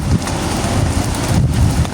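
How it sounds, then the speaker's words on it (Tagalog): Rain beginning to fall outdoors at a fishing spot, a loud, dense, continuous hiss and patter with gusty rumble, steady throughout and with no voices. "Ayan na, ang ulan."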